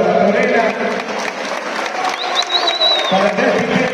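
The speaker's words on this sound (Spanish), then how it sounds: "un fuerte aplauso para Torena" Crowd at a launch event applauds and cheers in a thick, continuous roar, with voices shouting and talking over the clapping throughout.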